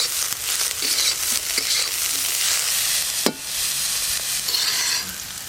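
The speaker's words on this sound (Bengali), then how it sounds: "সব সবজি ভালো করে ভাজা হয়ে গেল।" Carrots, beans and capsicum stir-fry in a wok over a clay stove, giving a steady close sizzle with scraping stirs and one sharp clatter partway through, no voices.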